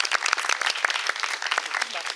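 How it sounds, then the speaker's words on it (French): An audience at an evening show applauds, dense steady clapping from a crowd filling the room with a fairly distant, bright wash of hand claps. "que je vous demande d'applaudir"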